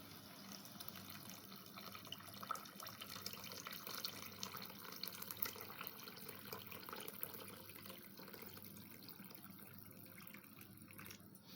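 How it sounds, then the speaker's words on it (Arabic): Water pours steadily into a pot of rice on the stove, a continuous soft splashing and trickling that lasts the whole stretch, close and moderately quiet with no talk. "وكنديروا ليه الماء القياس فاش غيطيب"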